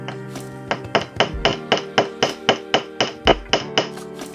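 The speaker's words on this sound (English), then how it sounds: "we'll just hammer the end of that just to give it some strength" A hammer strikes the end of a jewelry wire for a wrapped pendant in a quick, steady series of about fourteen sharp metallic taps, close and loud with no talk.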